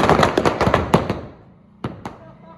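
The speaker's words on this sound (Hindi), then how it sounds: "सारे लोग पटाखे छोड़े पड़े हैं" Firecrackers burst at a Diwali celebration: a rapid run of sharp, loud cracks that thins out, then two more isolated pops close by.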